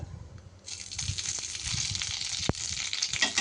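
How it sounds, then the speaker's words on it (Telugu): Green chilies drop into hot oil on a stove, a low rumble swelling into a steady bright sizzle with a sharp crack partway through. "ఫ్రై చేసుకుందాం స్టవ్ ఆన్ చేసుకునేసి ఇందులో పచ్చిమిర్చి వేసుకుందాం ఇందులో ఆయిల్ గుడక"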